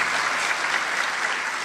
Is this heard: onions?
no